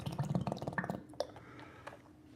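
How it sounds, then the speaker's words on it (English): Hot water poured into a container while making mead, a short burst of splashing and trickling that tapers into a few faint drips, close and alone. "Put some hot water in there."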